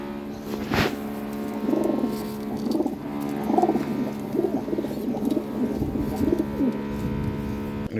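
A pigeon of a prized local breed coos in a steady, rhythmic series of soft, throaty phrases, close by, over a low background hum.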